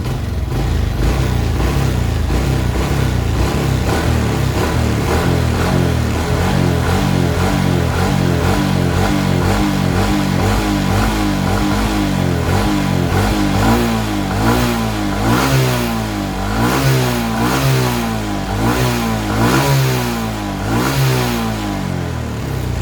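A motorcycle engine on a short test ride revs up and down repeatedly, loud and close, its pitch rising and falling in waves over a steady running drone.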